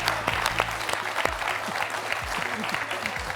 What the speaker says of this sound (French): On peut applaudir Sébastien